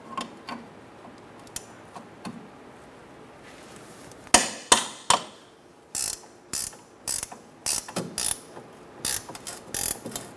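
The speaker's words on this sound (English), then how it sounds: "Using a 17mm ratchet wrench, I'm going to loosen up this nut, take it off." A 17mm ratchet wrench loosens a nut on the rear lower control arm of a 2004-2009 Mazda 3, starting with faint ticks and then giving close, crisp bursts of rapid clicking in repeated strokes.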